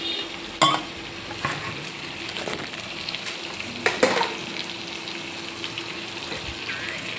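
Water is poured into a pot of meat curry, hissing and sizzling over a steady simmer, with a couple of sharp clanks from a utensil against the pot.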